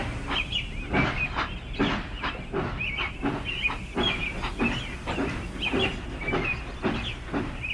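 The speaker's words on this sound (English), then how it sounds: "With a blast of his whistle, he went to fetch his return train." A steam engine chuffs away with its train, steady rhythmic hissing beats and clanking carrying on without pause, with no whistle standing out over the rolling noise.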